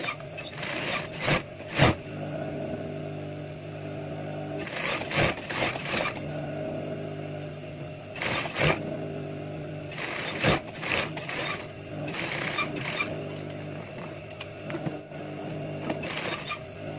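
A sewing machine stitches the sleeves onto a two-colour women's dress, running in loud, close whirring bursts that start, stop and restart several times with short pauses between runs.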